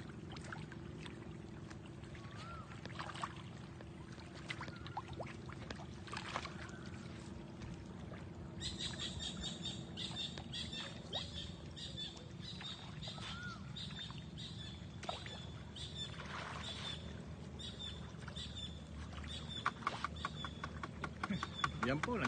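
Farmed milkfish about nine weeks old splashing the water of a pond in Buguey, Cagayan, Philippines while feeding, a steady mass of churning, lapping splashes under outdoor ambience with faint birds, sustained and moderately distant.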